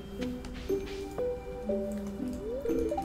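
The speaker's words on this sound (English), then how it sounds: "moving phlegm from his lower throat into his mouth" Wet, gurgling throat sounds with wavering tonal squeaks, as phlegm is shifted around in short bursts, close to the microphone.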